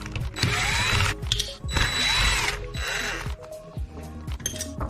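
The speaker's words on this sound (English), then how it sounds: "take our T20 Torx and remove this guy over" A T20 Torx driver removes a screw from the steering-wheel button panel of a Mustang, heard as close bursts of scraping and ratcheting with small metallic clinks and clicks between them, no speech.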